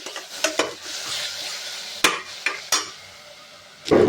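Tomatoes sauté in a pan for biryani, a steady soft sizzle broken by several sharp scrapes and clanks of a stirring spoon against the metal.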